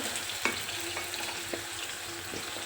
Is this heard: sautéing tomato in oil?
yes